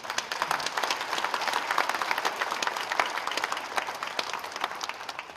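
A church congregation applauds during a worship service, steady dense clapping from a sizeable crowd filling the whole stretch at even loudness, with no voices rising above it.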